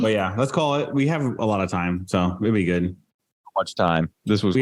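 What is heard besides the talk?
No everyday noises stand out.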